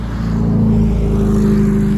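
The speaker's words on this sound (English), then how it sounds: "Oh, old car. Hi, Lada." An old Lada car's engine drones low and steady close by for the whole stretch, a continuous rumble with no voices.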